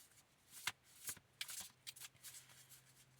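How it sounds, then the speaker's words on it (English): Tarot cards are shuffled by hand in a quiet room, giving several crisp riffles and soft flutters in an uneven rhythm, close and faint, with no talking. "As I'm shuffling, I'm seeing all kinds of cards of confirmation to that."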